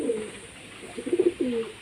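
Old-line Madras pigeons coo in a short burst of low throaty pulses, close and fairly loud, with no voices over them.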